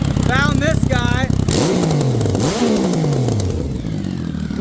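A Yamaha Raptor ATV with a swapped-in 1050cc engine revs up hard and then drops back toward idle, loud and close, with rising and falling engine pitch and some mechanical clatter.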